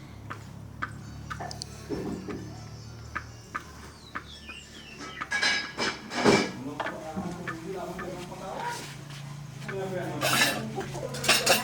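Household dish washing with pots, dishes and cutlery clinking and clattering intermittently, some bursts of running water, and faint chicken clucking in the background.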